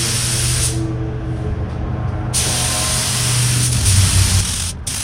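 Spray gun laying down a thick coat of paint on a 1977 Pontiac Trans Am, a loud continuous airy hiss with a steady hum underneath that holds for the whole stretch, briefly thinning near the start and end.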